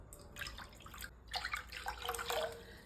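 Water, about three cups, is poured into a pot to be boiled for Thiruvathirai kali, heard as a faint, uneven splashing and trickling in two short bursts.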